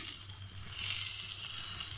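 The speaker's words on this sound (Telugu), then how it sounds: "ఇప్పుడు స్టవ్ మీద తప్పలు పెట్టి లేదా కళాయి పెట్టి" Hot oil sizzles in a kadai or pan on the stove, ready for a tempering of mustard seeds, cumin, curry leaves, garlic and dried chillies; a soft, steady frying hiss carries on alone, fairly quiet.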